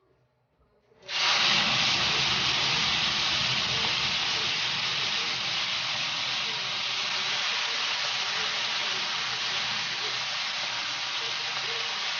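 Squid hitting hot pork oil in a pan and sizzling, an abrupt loud hiss that starts at once and then holds as a steady, dense crackle for over ten seconds.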